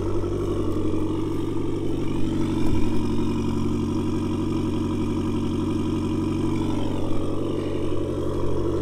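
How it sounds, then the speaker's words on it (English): A Ford Fiesta RS Turbo with a Mongoose exhaust idling close up, a steady, throaty engine drone with an even pulsing rhythm and no talking. "So I'll give it a quick start up just so you can hear it up close."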